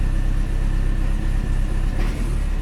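A car engine runs steadily at idle, close and loud with a constant low rumble, while being checked for a misfire on cylinder 4.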